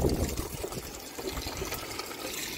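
Water pours and splashes steadily as potted plants are watered on a third-floor area of a home in the Philippines, a close, continuous trickling wash with no voices.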